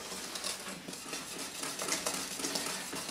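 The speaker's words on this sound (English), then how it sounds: "few more whisks" A whisk beats cinnamon flour porridge in a pot, giving a steady, quiet, rhythmic scraping and sloshing of utensil against pan, close up and without voices.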